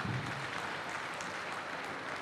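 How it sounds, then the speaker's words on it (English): A crowd at a speech by a governor applauds in a steady, even wash of clapping that carries on through the whole short stretch at moderate loudness. "Please give me a round of applause for everything."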